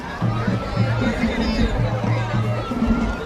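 Crowd of media pressing around a passing group at the 2020 Selma bridge crossing, a steady murmur of many overlapping voices close by, with chatter and shuffling throughout.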